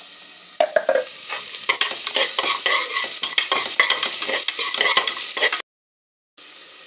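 Three onions sautéing with salt in butter in a pan, crackling and sizzling continuously while a utensil scrapes and stirs in quick repeated strokes, close and loud, ending in a sudden brief silence.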